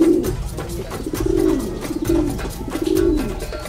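Racing pigeons coo close by in a loft, a soft throaty rolling call repeating in several bursts over a low background murmur.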